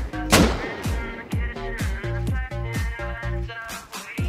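Rapid gunfire in the survival game Rust, about a dozen booming shots in a steady rhythm with ringing harmonic tails, loud and dense throughout.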